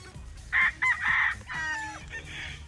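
Straight breed gamefowl stags crowing at a fiesta show booth, several loud, close crows in quick succession following one another over a murmuring crowd.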